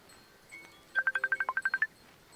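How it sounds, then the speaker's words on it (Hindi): A mobile phone rings with a quick series of about ten short, evenly spaced electronic beeps, loud and close, following a brief faint tone, with no talk over it. "केकर फोन आवे लाग"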